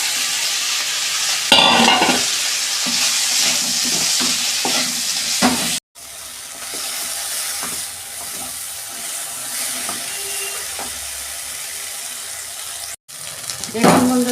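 Okra fries in a kadai with a continuous loud sizzle, broken by scraping stirs and a couple of brief pauses, while a person speaks quietly in the background.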